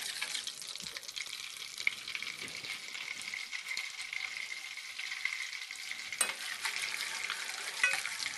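Butter sizzling and browning in a crêpe pan for sweet wheat-flour crêpes, a steady bright crackling hiss running throughout with small pops, moderately close and without talk.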